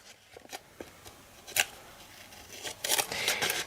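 Scissors trim the edges of a glued paper envelope, giving several short crisp snips and rustles at close range, growing busier toward the end with no voices.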